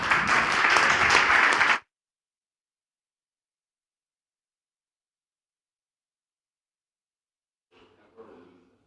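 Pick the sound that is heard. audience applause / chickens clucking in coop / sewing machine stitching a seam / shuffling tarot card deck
audience applause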